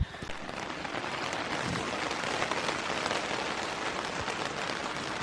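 Rain falling at a hunting camp in Colorado, a steady, dense hiss of drops pattering on surfaces, moderately loud and unbroken throughout.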